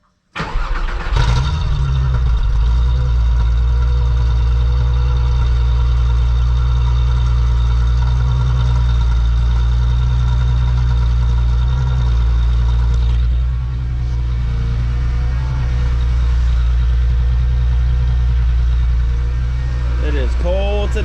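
A VR6 Jetta Wagon engine cranks and catches within the first second or two, then settles into a steady, deep idle that runs loudly and continuously nearby on a cold day, with a slight dip in revs partway through.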